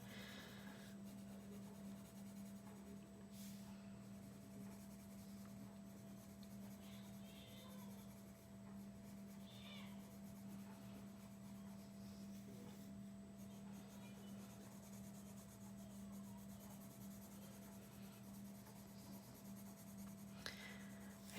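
Pencil shading on paper while filling in a drawing, a soft continuous scratchy rubbing that runs for about twenty seconds, faint and close with a steady low hum in the room, and no speech.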